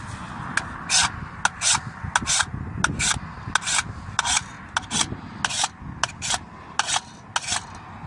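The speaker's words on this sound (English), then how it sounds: "we just started scraping some Cerakote off of this this USGI steel mag" A knife scrapes Cerakote coating off a USGI steel magazine in repeated short, harsh rasping strokes at an even rhythm, heard close over a low background rumble.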